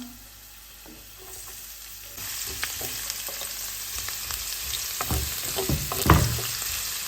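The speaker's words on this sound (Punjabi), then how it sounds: "ਦੋ ਤਿੰਨ ਚਮਚ ਤੇਲ ਪਾ ਲਿਆ ਆ ਪਹਿਲਾਂ ਆਪਾਂ ਨੇ ਅਦਰਕ ਪਾ ਦੇਣਾ" Ginger dropped into two or three spoonfuls of hot oil over medium heat, frying for a samosa filling: a quiet start, then a steady close sizzle with crackling pops and stirring scrapes building toward a louder burst near the end.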